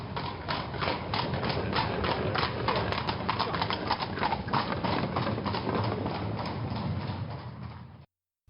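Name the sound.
horse-drawn carriage hooves clip-clopping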